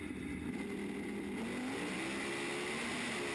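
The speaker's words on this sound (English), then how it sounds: "you can see him shifting through the gears there" A Pro Modified drag race car engine roars steadily, heard from on board during a run, its pitch climbing and dropping as it shifts through the gears, loud and continuous throughout.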